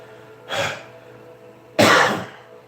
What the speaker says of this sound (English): Because when you start, I'll stop coughing.